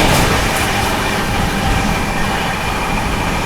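The 12907 Maharashtra Sampark Kranti Express, Mumbai to Delhi, runs at speed, a loud, continuous rushing rumble of wheels and carriages with no break and no voices.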